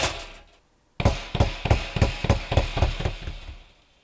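Foley knocking made to sound like someone trapped inside tapping to call out: a single knock, a short pause, then a run of about ten sharp, evenly spaced raps that fade at the end.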